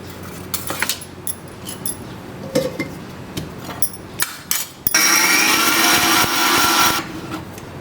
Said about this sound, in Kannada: ನಾನು ಇದನ್ನು ಮಿಕ್ಸಿಗೆ ಹಾಕ್ಕೊಳ್ತೀನಿ